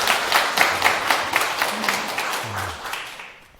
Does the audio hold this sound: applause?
yes